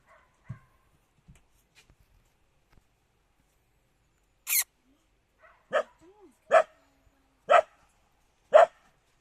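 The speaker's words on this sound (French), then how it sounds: "Ah, elle aboie." A dog barks in a series of five sharp, close barks spaced about a second apart, following a few soft clicks and faint background sounds.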